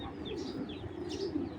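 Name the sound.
Sapchila Napta pigeon cooing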